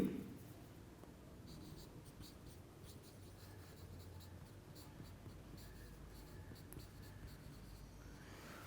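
Chalk or marker scratching steadily across a board during a chemistry lecture on equilibrium, a continuous faint scraping texture running through the whole stretch with no talking over it.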